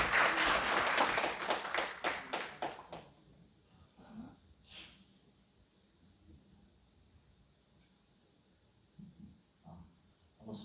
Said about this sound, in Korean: 앞으로 나오신 박수로 한번 크게